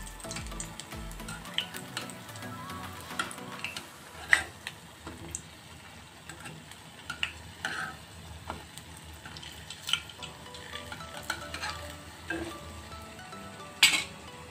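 Nuts frying in a pan over a low flame, a gentle continuous sizzle broken by occasional sharp clicks and taps of a utensil against the pan.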